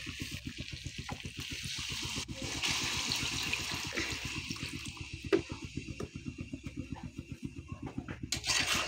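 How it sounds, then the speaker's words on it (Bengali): Water is poured into a pan of simmering egg curry, a steady gushing splash with a bubbling, pulsing texture throughout, close and moderately loud, with no voices. "এবারে জল ঢেলে দেবো।"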